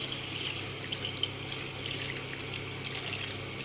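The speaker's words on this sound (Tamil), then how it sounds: "இப்போ அதை முழுகிற அளவுக்கு தண்ணீர்," Water poured into a pot of rice in a kitchen until the grains are covered, a steady close splashing trickle with small bubbling variations, no voices.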